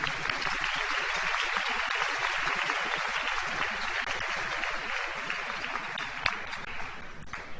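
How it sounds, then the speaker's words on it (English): A large crowd applauds at the St. Amant High School 2021 commencement, a steady wash of clapping that holds evenly throughout and sounds moderately distant. "Let's give them a round of applause as well."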